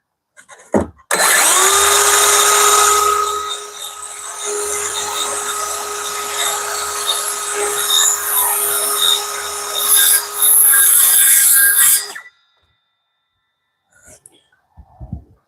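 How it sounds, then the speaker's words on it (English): A power sander grinds loudly and steadily through sanding on a DIY mini truck camper build, with a sustained high whine that dips and swells for about eleven seconds before cutting off; brief faint voices follow. "it's gonna sand it down"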